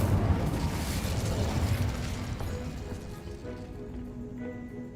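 An Incendio fire spell cast in a Harry Potter video game, a loud roaring whoosh of flame with rumbling low bursts that slowly dies away over several seconds.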